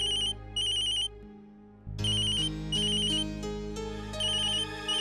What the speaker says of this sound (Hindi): अंशु के स्कूल से फोन